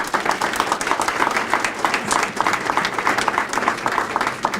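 Audience applause for the Jones Middle School Honor Choir at a school-district event, a dense, even round of many hands clapping at once that holds steady from start to finish.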